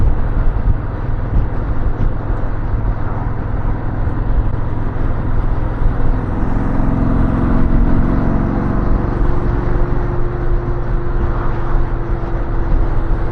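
A Yamaha Star Venture touring motorcycle cruising at highway speed, around 70 mph, gives a steady loud drone of engine and wind roar that stays constant throughout, with a faint rising whine midway.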